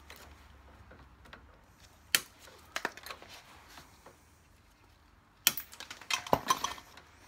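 A pair of cutters snips through plastic tie wraps while working on a Harley-Davidson touring bike's Brembo brakes, with two sharp snaps followed by clusters of small clicks and rattles, close and without talk.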